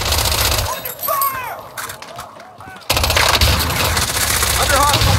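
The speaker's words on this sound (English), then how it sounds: "Under fire! Under hostile fire!" Gunfire in Call of Duty Warzone comes in loud, dense bursts and rapid volleys, mixed with shouted game voices and player talk throughout.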